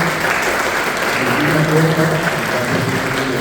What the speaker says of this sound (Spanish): quiero si le podemos recibir con un aplauso a nuestra querida amiga.